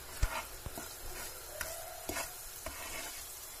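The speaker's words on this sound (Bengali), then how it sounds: "এখন একটি চামচের সাহায্যে সমস্ত চিনিকে পুড়ে যাওয়া চিনির সাথে নেড়েচেড়ে মিশিয়ে নিতে হবে" A spoon scrapes and stirs sugar through bubbling, caramelizing burnt sugar in a pot for traditional Bangladeshi rice payesh, with soft sizzling under a few sharp knocks and scrapes of the spoon against the pan.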